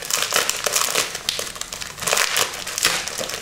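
A package of scrapbooking and Christmas-card papers is torn open, with loud, close crinkling and crumpling of plastic wrap in irregular bursts and no talking.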